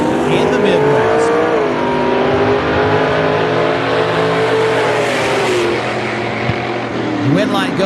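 Drag racing cars launching at a dragstrip, including a 1950 Ford Business Coupe, loud engines revving and climbing through gears in a sustained roar, with an announcer talking over the noise.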